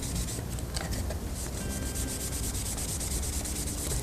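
A wax finish being polished by hand, a steady, close, continuous rubbing swish with even rhythm and no voices.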